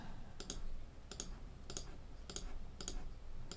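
Computer mouse clicks on a Mac, quick paired clicks repeating at steady intervals of roughly half a second, crisp and fairly close against a quiet background.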